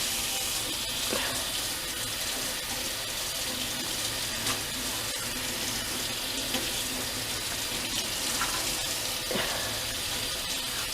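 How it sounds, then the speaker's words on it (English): Cold tap water runs steadily into a sink while a tie-dyed cloth mask is rinsed under it, a close, continuous splashing hiss with small irregular spatters. "now you're just gonna rinse it under cold water until all the dye stops coming out"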